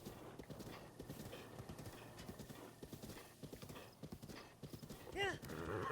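Ganon's horse in a Zelda video game, with rhythmic hoof clip-clops running throughout and a whinnying neigh near the end, while a player talks over it.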